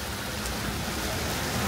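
Rain pours steadily at a seaside resort in Thailand, a dense, loud, unbroken hiss of drops on surfaces with no voices.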